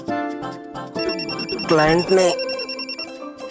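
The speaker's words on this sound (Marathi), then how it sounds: "उठ रे, तो बघ फोन वाजतोय" A telephone rings in a repeating electronic pattern of bright tones throughout, while people talk over it at close range.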